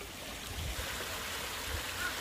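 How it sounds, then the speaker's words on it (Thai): A natural mountain stream flows steadily downhill, a soft, even rushing of water heard faintly and without interruption. "น้ำไหลจากบนภูเขาครับผมธรรมชาติ"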